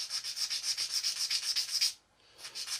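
An old, worn file rubs back and forth on a plastic part from a Tamiya 1/48 Mosquito model kit, giving quick rhythmic rasping strokes close up that stop briefly and then resume.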